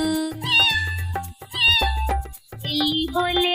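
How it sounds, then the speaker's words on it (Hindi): Repeated cat meows, several loud drawn-out cries in a row, set within a Hindi children's nursery rhyme with musical backing. "बिल्ली बोले म्याऊ म्याऊ"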